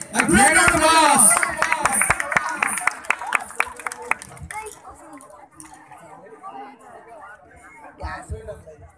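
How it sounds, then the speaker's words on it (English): An audience claps and cheers at a school dance performance, a burst of dense applause with some whoops that thins into scattered claps and crowd chatter, with an announcer's voice over the start. "a great round of applause"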